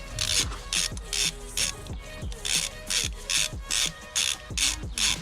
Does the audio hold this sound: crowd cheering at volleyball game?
no